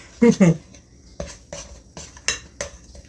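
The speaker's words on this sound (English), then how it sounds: "We're making sure we give it a nice good stir, and our eggs are already mixed in" Coconut cake batter with eggs mixed in being stirred in a bowl, with a pair of loud utensil clinks against the bowl, then lighter repeated taps and scrapes spaced about half a second apart, close by.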